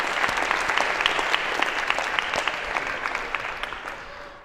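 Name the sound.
audience applause for volunteers coming on stage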